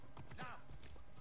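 Horse hooves clip-clop in Assassin's Creed Origins in a brief, faint patter of a few steps, with a soft whinny-like sound and a voice talking over it.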